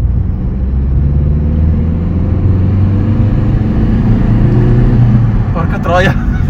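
An Alfa Romeo 147 1.9 diesel pulls hard at full throttle in third gear from low revs, its engine rumbling loud and steady inside the cabin, rising gradually before a voice breaks in near the end.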